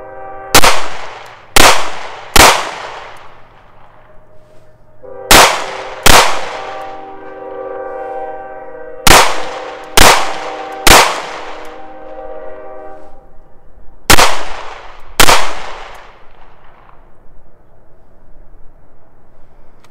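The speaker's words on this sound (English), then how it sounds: "I've got one round of Fiocchi 129 grain full metal jacket ammunition loaded in the chamber, another 9 rounds in the magazine." A Llama Max-1 .38 Super pistol fires ten loud, sharp shots of 129 grain full metal jacket rounds in uneven groups of two and three, each crack followed by a short ringing decay.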